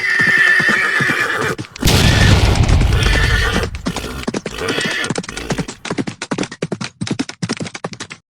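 A cartoon horse gives a loud, drawn-out neigh, then a burst of noisy commotion, followed by a rapid run of sharp clip-clop hoofbeats galloping alone and close.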